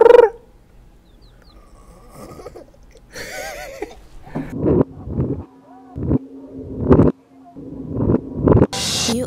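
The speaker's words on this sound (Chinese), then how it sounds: "这三只小鸡鸡一直在叭叭的叫啊" Three baby chicks riding in a car give short, high chirps now and then, with bursts of talking between and over them.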